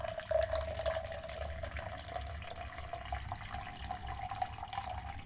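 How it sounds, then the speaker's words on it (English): Water pours steadily into a cup in a quiet indoor setting, a faint continuous trickle with a low background hum and no talking. "let me add water to my cup"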